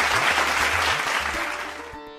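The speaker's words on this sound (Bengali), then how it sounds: "এবার জোরে হাততালি।" An audience at a literary event breaks into loud applause, a dense wash of clapping that fades over two seconds as a low tone and music come in.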